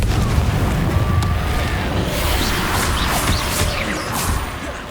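Confringo spell cast in Hogwarts Legacy, a loud blasting burst with a rumbling crackling tail that slowly fades, heavy and close.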